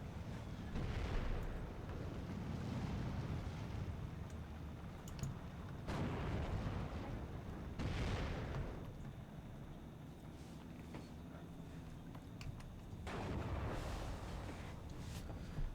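A 107 mortar in the video game Steel Division II firing blind at distant positions, a few muffled booming thumps at intervals over a low rumbling battlefield ambience, fairly faint.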